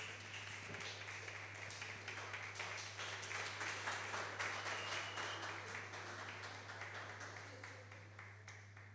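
An audience at an entrepreneurship and innovation workshop claps for a speaker, the applause quiet and somewhat distant over a steady low hum, gradually thinning toward the end.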